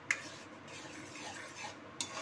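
A utensil stirs a potato, pointed gourd and soybean curry in a pan, making a low, close scraping sizzle with two sharp clinks against the pan.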